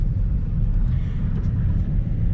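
A car drives through a village, a steady low engine and road rumble heard from inside the cabin, constant and fairly loud.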